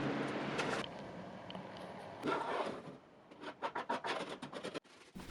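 Old paint is scraped and rubbed off an antique serpentine dresser, close and fairly quiet, with long steady strokes giving way to a quick run of short rhythmic scrapes.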